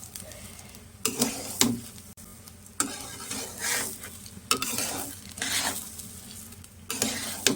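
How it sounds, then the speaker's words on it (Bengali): Rice being stirred and fried in ghee and oil in a pan, with repeated scraping strokes every second or so over a continuous close sizzle. "কিছুক্ষণ এভাবে চালটাকে নাড়াচাড়া দিয়ে আমি ভেজে নিচ্ছি"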